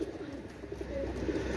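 A cream-eyed pigeon coos low and soft nearby, a short rolling murmur over faint room noise.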